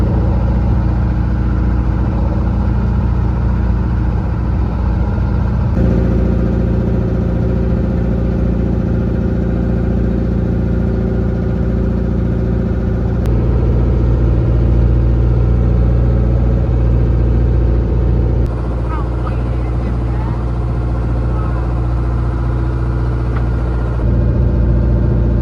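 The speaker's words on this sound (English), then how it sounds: "this boat's giving us a tug so we can point, because obviously if we go forward it's quite shallow" A small boat's engine running steadily off Koh Rong Sanloem while another boat tugs and spins it round in shallow water, a loud constant low drone that shifts in level a few times.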